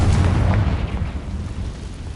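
Confringo blasting spell in Hogwarts Legacy bursts with a loud, close, rumbling explosion that slowly decays into a low roar, with no voices.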